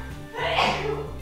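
A single sneeze bursts out over a steady low electronic hum, moderately loud and close, with no talking around it.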